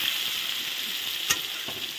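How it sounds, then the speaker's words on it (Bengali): Chopped tomatoes fry in a pan with a constant crackling sizzle, broken by one sharp stirring scrape of a utensil about two-thirds through. "টমেটোটা এখন ভাজা হোক,"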